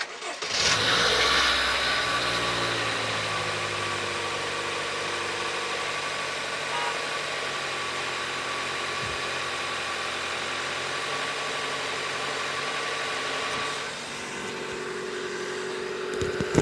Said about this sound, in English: So we are going to start the engine up.